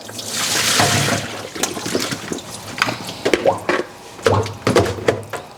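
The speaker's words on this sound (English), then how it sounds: "So I am just going to drain the water." Water draining and trickling off freshly peeled yam pieces, with irregular drips and a few soft thunks from handling the pieces, close and moderately loud.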